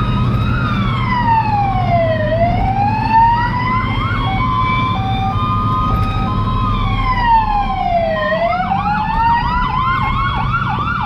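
A loud police siren on a Ford Gran Torino cycles through long wails and rapid yelping bursts, close and continuous over a low engine rumble.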